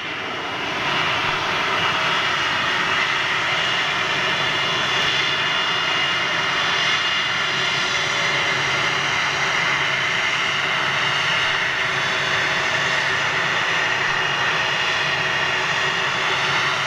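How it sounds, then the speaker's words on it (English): An Airbus A330 airliner comes in to land in Manchester, its jet engines giving a loud, sustained roar that holds steady throughout, with no voices over it. "Three thirty landing right behind him."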